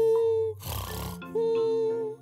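Loud snoring from two sleepers, imitated by voices in a cartoon comic dub: long droning, nasal tones broken by a harsh, rasping snort in the middle, then the drone returns.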